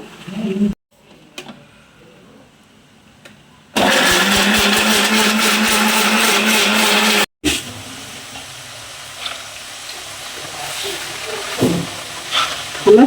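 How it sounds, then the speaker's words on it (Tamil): A mixer grinder whirs loudly for a few seconds, grinding ingredients in a mixie jar, then cuts off abruptly. Quieter kitchen handling noises come before and after it. "இது மிக்சி ஜாரில் போட்டு நம்ம அரைச்சி எடுத்துக்கலாம்"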